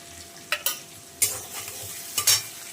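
Ginger and green chili paste fry in a pan, a soft sizzle under several sharp spatula scrapes and clacks against the metal, close up with no talking.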